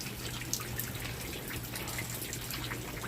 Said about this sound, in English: everything is melting and dripping and gross and flooded.